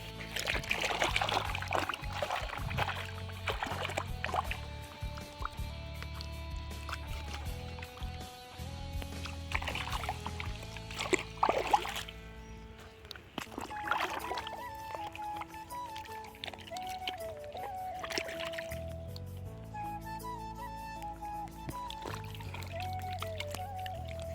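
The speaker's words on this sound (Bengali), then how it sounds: "তো এখানেই কিন্তু আমি পা ধুয়ে নেব, দেখা যাক কি হয়।" Feet being washed in a muddy village pond: water splashes, pours and trickles in uneven bursts, close by, with no talk.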